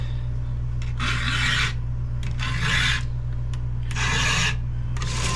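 A file rasps across a chainsaw chain's cutters in three firm, evenly spaced strokes, with a few short scrapes between them, close and distinct over a constant low hum.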